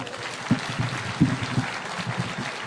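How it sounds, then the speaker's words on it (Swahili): A crowd at an Akorino gathering in Nakuru claps for a young girl, a short burst of scattered, moderately loud applause that quickly thins out. "Tuhurire mwana ucio makofi."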